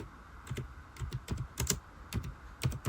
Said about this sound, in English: You can just type anything in here, you guys, and it'll basically pop up for you.